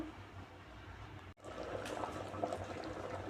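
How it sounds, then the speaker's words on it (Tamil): A pot of rice and lentils boils on the stove, a quiet bubbling and simmering that continues steadily throughout with a brief dropout partway through. "இப்போ நல்லா கொதி வந்துருச்சு"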